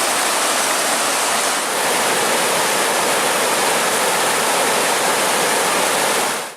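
River whitewater rushing beside the Superior Hiking Trail: a loud, dense, steady roar of churning water, close by and unbroken, with no voices over it.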